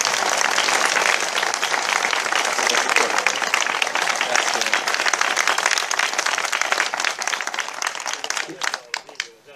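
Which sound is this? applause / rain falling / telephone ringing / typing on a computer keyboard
applause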